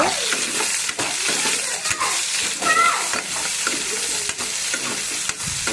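Chopped onions frying with soya chunks for a meal maker curry, stirred in a pan with a steady loud sizzle and repeated scraping strokes of the spoon, close by and with no talking.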